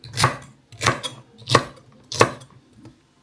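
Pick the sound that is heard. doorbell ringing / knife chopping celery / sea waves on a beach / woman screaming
knife chopping celery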